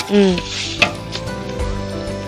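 Sugar syrup being stirred in a pan on the stove for panchadara chilakalu, a sugar candy. A soft, steady sizzling bubble runs through, with light scraping from stirring, a brief clink, and a voice briefly at the start.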